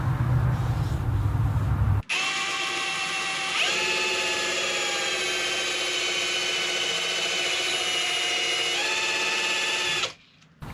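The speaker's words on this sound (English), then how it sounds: "I'm not going to sand too much on it because I don't want a bunch of MDF dust around" A homemade rolling pin sander, driven by a power tool, whirs with a steady loud mechanical whine for about eight seconds, starting and stopping abruptly.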